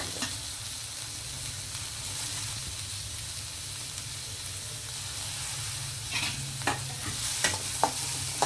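Ingredients frying in hot oil make a steady, close hiss and sizzle, with a few sharper spatters and stirring clinks toward the end, no voices over it.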